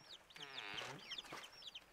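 Chickens clucking and squawking in short repeated bursts, fairly close, with a few overlapping calls and no talking.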